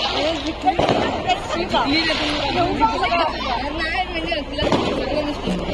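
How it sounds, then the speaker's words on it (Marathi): Firecrackers burst and crackle through a loud, continuous din celebrating a match win, with sharp pops standing out over dense crowd chatter and people talking nearby. "मंडळी तुम्हाला फटाक्यांची आवडत असेल, मॅच जिंकले म्हणून ते झोर"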